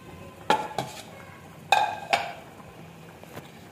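A utensil stirs yogurt into meat in a pot, making a few sharp metallic clinks and scrapes against the pot in uneven bursts, with quiet pauses between them.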